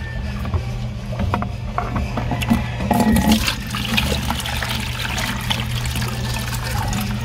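Water holding hundreds of guppies being poured into a bucket while moving the fish to a turtle pond, a close splashing and trickling pour running steadily over a low background hum.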